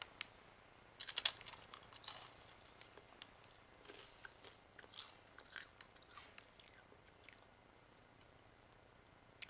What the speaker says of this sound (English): let's open this up and do a taste test for you